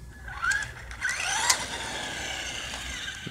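A Traxxas Rustler RC car with a steering trim problem drives past, its small electric motor whining up and down in pitch, moderately close and fading off, no talk.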